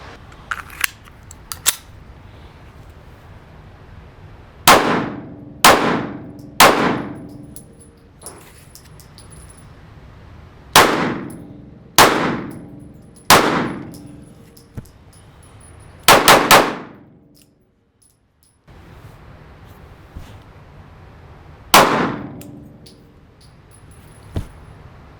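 Handgun shots fired with the gun canted sideways at steel targets: about eleven sharp, loud reports in uneven clusters of two and three, each ringing off briefly, with quiet gaps between.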